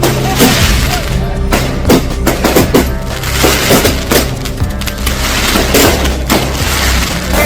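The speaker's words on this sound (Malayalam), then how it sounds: "നടുറോഡിൽ ഇരുകൈകളിലുമായി അപകടകരമായ രീതിയിൽ പടക്കം പൊട്ടിക്കുന്നതിന്റെ ദൃശ്യങ്ങൾ" Firecrackers burst repeatedly in the middle of a busy city road in Surat during a birthday celebration that blocks traffic, making loud, rapid, irregular bangs and crackles over a dense, noisy crowd background.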